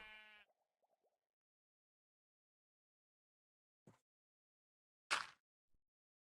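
A Minecraft sheep gives a short, close bleat at the start, followed by long silence and a few isolated soft plops and clicks from the game.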